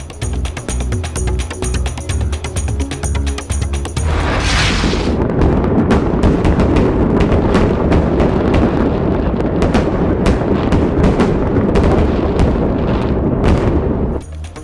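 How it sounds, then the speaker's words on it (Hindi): Dense, continuous crackling bangs of fireworks exploding in rapid succession at a fireworks market in Mexico, loud and chaotic, after a few seconds of rhythmic background sound. "मैक्सिको में आतिशबाजी के सामान की मार्केट धमाकों से गूंज उठी।"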